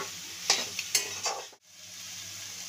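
Potatoes go into a hot frying pan, setting off a quiet, soft sizzle. A few sharp stirring clatters land near the start, then the sizzle fades briefly before settling back to a faint, steady hiss.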